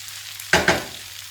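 Chicken filling for malawi sizzles in a pot, with two quick stirring scrapes against a soft background hiss, close up.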